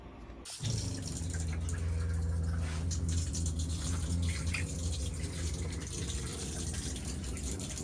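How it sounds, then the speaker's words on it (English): Water rushes steadily from a faucet in a Winnebago Travato camper van after a brief click, a continuous close hiss and splash that runs without a break. "So connect the water to make sure it ran before we disconnected the plastic faucet."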